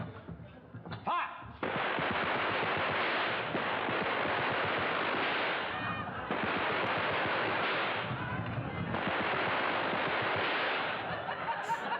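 Gunfire in a Dad's Army wartime comedy scene, heard as a dense, sustained rattle of shots in long bursts with short breaks, loud and noisy throughout, after a brief shouted order.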